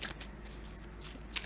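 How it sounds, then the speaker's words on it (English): A new tarot deck is shuffled by hand, giving soft papery riffles and brushes of the cards close by in a quiet room, with a few brief bursts of card noise. "That's how I shuffle, especially new decks."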